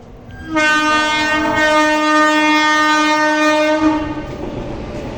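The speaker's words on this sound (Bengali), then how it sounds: "এই দেখো ট্রেন গাড়ি আসছে" A train rolls past at close range, its horn sounding a long, steady multi-tone blast that dominates the passage before easing off toward the end, with the rumble of the cars beneath it.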